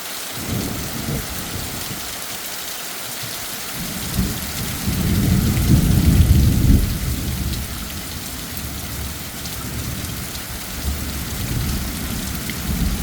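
Heavy downpour from a late-summer thunderstorm, dense steady rain roaring throughout with low rumbling thunder swelling loudly in the middle, no voices.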